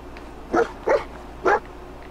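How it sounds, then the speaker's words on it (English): A dog barking in the video game Fallout 4, giving three short, sharp barks spaced about half a second apart over a quiet background. "What are you barking at?"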